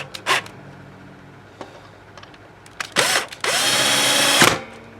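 A power drill drives screws into a J. Frog copy guitar body, with a brief whir near the start and then a longer burst of whining motor, sounding close and loud.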